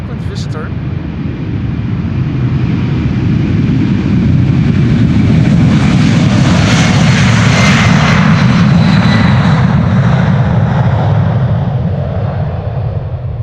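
Loud, steady roar of a United airliner's jet engines building and holding through a takeoff run at Amsterdam Schiphol Airport, close and continuous with no breaks.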